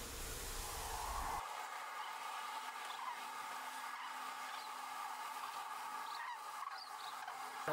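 Common cranes calling in Hungary, a record flock of migrating birds, heard as scattered distant trumpeting calls over a steady broadband wash of wind or crowd-like noise, with several brief clearer calls toward the end.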